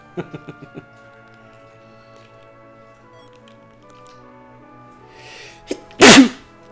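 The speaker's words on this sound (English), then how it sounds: "Oh, I'm sneezing a lot today." A single loud, close sneeze with a quick breathy lead-in, following a run of light ticking clicks early on and a stretch of near silence.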